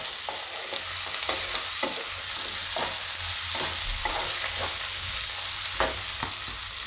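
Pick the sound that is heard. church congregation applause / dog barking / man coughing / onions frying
onions frying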